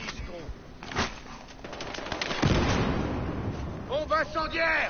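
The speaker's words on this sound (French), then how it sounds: "Bombe incendiaire." An incendiary bomb goes off in the Battlefield Hardline video game, a loud burst with a crackling, roaring tail under a voice.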